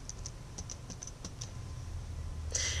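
Fingers tap out a verification code on a computer keyboard, a string of light, close keystrokes in an uneven rhythm over a low hum, ending with a slightly louder clatter.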